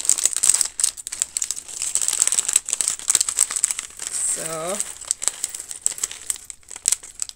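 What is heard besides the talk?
plastic bags rustling as they are opened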